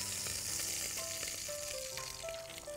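Onion and ginger hitting hot chicken fat in a frying pan give a steady, close sizzle, with light scraping and clinks from a utensil, while quiet music plays underneath.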